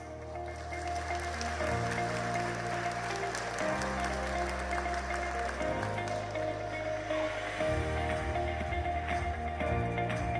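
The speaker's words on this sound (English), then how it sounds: "Please welcome him with a warm round of applause." Steady applause from the audience at the Yushan Forum opening ceremony in Taipei, welcoming a former Prime Minister of Denmark to the stage; loud, continuous clapping over a sustained musical backing, with no talk.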